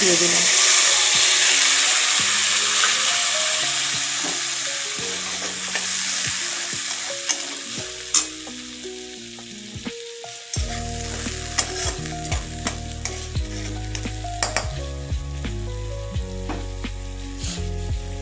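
A paste of whole cumin, ginger, garlic and chili hitting hot oil for doi rui, hissing strongly at first and then fading into lighter sizzling and stirring scrapes, with background music playing throughout.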